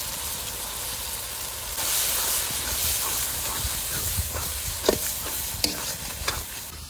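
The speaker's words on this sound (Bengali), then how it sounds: "এবার ভালো করে মশলাটা আবার কষিয়ে নেব।" Spice masala with tomato paste, turmeric and Kashmiri chilli frying in a pan for katla kalia, a continuous close sizzle and hiss with scraping stirs and a few sharper spatula knocks.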